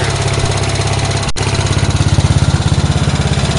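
Small Speedex engine running steadily after a carburetor rebuild, a loud, close, low-pitched chugging drone whose firing pulses grow more distinct in the second half, with one brief dropout; no voices.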